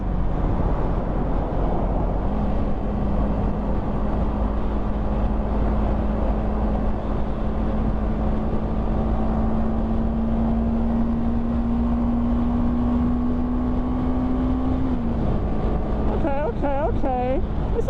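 A 2023 CFMoto CLX 700 motorcycle rides along with a steady engine drone and a slowly rising tone, buffeted by heavy wind noise from close up, with a brief warbling sweep near the end.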